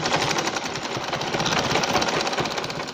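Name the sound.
sewing machine stitching lace onto dupatta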